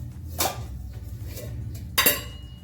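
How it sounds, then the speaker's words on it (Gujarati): A flat iron tava set down on a gas stove in a home kitchen gives two distinct metallic clanks, one early and a sharper one later, against a quiet background. "ગેસ ચાલુ કરી તવો મૂકી દઈશું"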